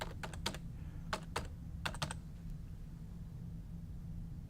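Search terms being typed on a computer keyboard, heard as a quick burst of close, crisp key clicks in small clusters over a steady low hum, then fading to only the hum.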